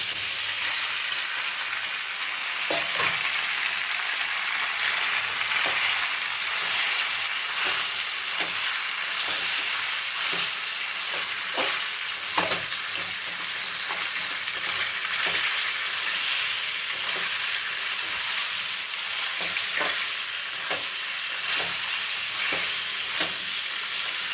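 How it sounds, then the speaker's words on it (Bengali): Boiled pasta tipped from the hot-water strainer into a hot kadai, frying with a steady bright sizzle while a spatula scrapes and stirs in repeated strokes, close and loud throughout with no talking. "সেই পাস্তা এখন আমি কড়াইতে ঢালবো। দিয়ে দিলাম কড়াইতে।"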